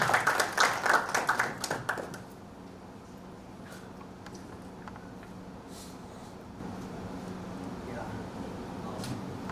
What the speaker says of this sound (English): let us welcome Mr. Albert Cheng with a warm round of applause